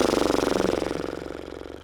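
A close, fluttering lip buzz as a person blows out a long breath, rapid rhythmic vibration fading over about two seconds, imitating a horse's snort.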